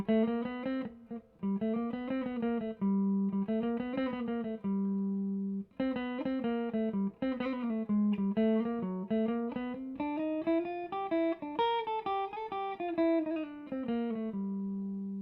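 A jazz guitar plays a melodic line in clean single notes, moving in short phrases with brief pauses, close and alone with no voices.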